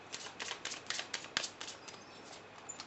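Close, crisp riffles of a tarot deck being shuffled in a steady series of short bursts, fairly soft, with no voices over them.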